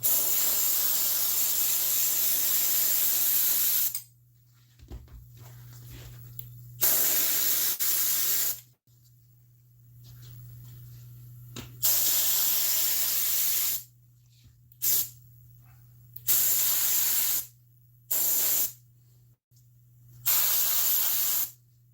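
Repeated hissing sprays of varying length from an aerosol can of glue for a seat cover, some long and some short puffs, broken by quiet gaps over a constant low hum.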